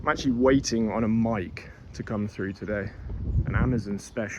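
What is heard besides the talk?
No distinct noise like a dog, phone or traffic.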